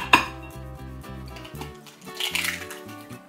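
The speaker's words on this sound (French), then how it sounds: "vous allez dans votre petite assiette plate venir mettre votre œuf que vous allez casser" An egg is cracked onto a small flat plate: a sharp clink of shell on the dish at the start, then soft dripping and light scraping of the plate, close and quiet.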